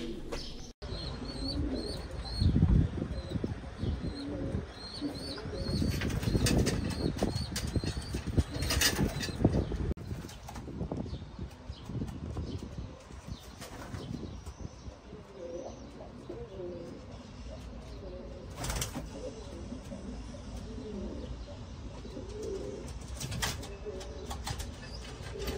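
Racing pigeons returning from a 105 km race at Hajigabul cluster around the loft, cooing and fluttering with bursts of wingbeats, near and fairly loud amid outdoor ambience.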